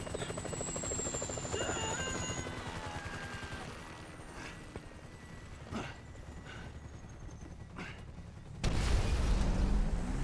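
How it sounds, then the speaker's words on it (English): In Grand Theft Auto V, a helicopter's rotor thrums steadily nearby, mixed with scattered sharp impacts and gunfire-like bangs and a louder rushing surge near the end. "Chopper, incoming!"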